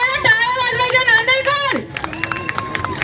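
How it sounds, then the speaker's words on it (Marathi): Crowd at a shop opening in Nanded clapping along in a quick rhythm beneath amplified talk and music, the claps continuing as a steady patter after the voice drops away. "सर्वांना टाळ्या वाजवायच्या."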